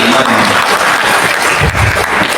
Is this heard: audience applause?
yes